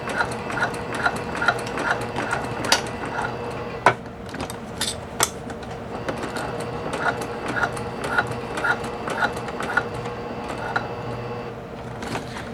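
A sewing machine stitches backwards to tack a tote bag, giving a steady, rapid mechanical ticking with occasional sharper clacks, close and unaccompanied by voices.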